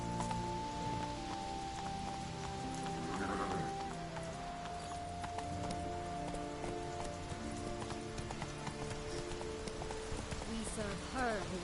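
A horse gallops with steady hoofbeats in The Witcher video game, mixed under game music and ambient sound, with a voice speaking over it.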